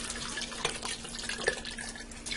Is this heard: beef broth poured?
yes